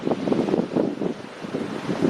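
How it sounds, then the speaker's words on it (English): Strong gusty wind buffets the microphone on a beach, a continuous low rumbling roar with surging pulses and no voices. "over here by the beach, we got a lot more wind. You can hear it on the mic."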